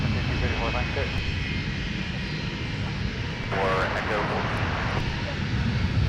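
A jet airliner taxis at Minneapolis–St. Paul airport after landing on runway 12 left, a steady broad engine rumble and whine heard from a distance, with brief faint tonal sweeps partway through.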